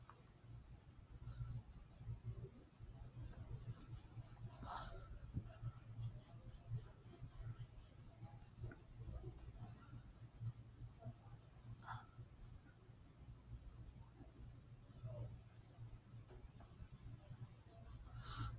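A pencil shades a sphere on paper with soft, steady scratching and rubbing strokes. The strokes come in quiet bursts with a few brief brighter scrapes, and there is no talking.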